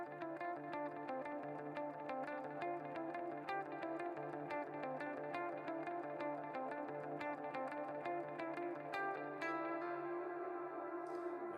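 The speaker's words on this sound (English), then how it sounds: "I really like that riff you play with the delay." An electric guitar riff rings out through a delay effect, repeating notes echoing and stacking into a continuous shimmering wash, steady and fairly loud throughout with no talk.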